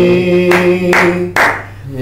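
A congregation claps along to a Telugu worship song at an early morning service, with three loud claps in a row over sustained singing and accompaniment.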